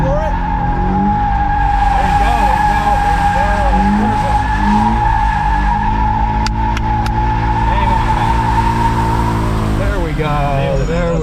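A modified Toyota FRS skids and drifts into donuts with a long sustained tire squeal over a droning engine, loud and close, with people talking over it.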